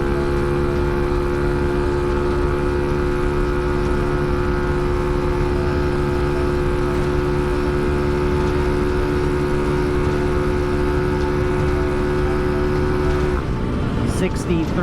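A GY6 engine on a Ruckus scooter drones at full speed in a loud, continuous buzz. The pitch stays high and steady until it drops off near the end.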